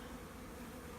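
A honeybee swarm buzzing steadily and densely at a new hive location, a continuous close drone of many wings with no talking.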